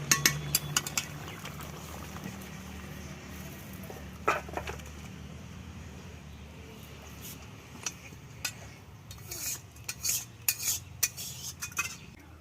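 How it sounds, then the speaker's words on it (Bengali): A spoon scrapes and clinks against a cooking pot as mustard tuna fish curry is poured out, with scattered sharp metallic taps and bursts of clatter over a quiet kitchen background, and no talking. "বন্ধুরা আমার তরকারি রেডি, এবার আমি ঢেলে নেব।"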